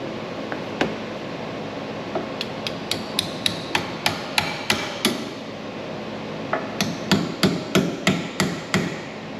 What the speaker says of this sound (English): Then we can just take our hammer, and I'm just gonna get this started here.